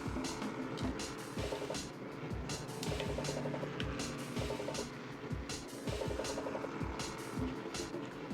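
Car engine running in a PS2 driving game with manual transmission, a steady buzzing drone with periodic repeating beeps and thuds as gears are shifted, continuous and fairly loud throughout.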